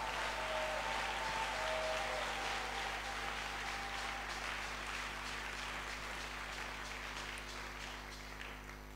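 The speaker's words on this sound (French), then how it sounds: "acclame très fort pour sa présence" A church congregation cheers and applauds loudly in one sustained, dense wash of clapping and voices that fades slightly toward the end.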